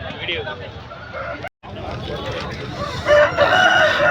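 A Kaki breed rooster crows loudly and close by at a country chicken market, a long strained call, with a brief cut in the middle and people talking in the background.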